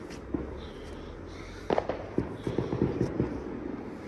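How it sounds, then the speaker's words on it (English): Fireworks bursting on bonfire night, a string of sharp cracks and pops, one louder bang followed by several rapid crackles at mid distance, with no talking. "Fun and games of fireworks."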